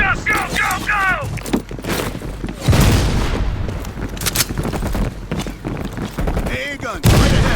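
Gunfire from Call of Duty Cold War crackles in bursts and heavy booms amid battle noise, with shouted voices over the shooting throughout.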